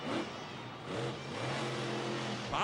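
Grave Digger monster truck roars as it spins donuts on an arena floor at a Monster Jam show in San Antonio, its engine revving loud and sustained with rising and falling pitch over crowd noise.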